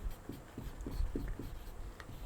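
A pen scratches notes onto paper in a steady series of short, evenly spaced strokes, faint and close against a low background hum.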